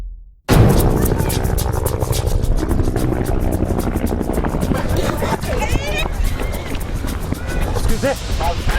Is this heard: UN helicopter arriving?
yes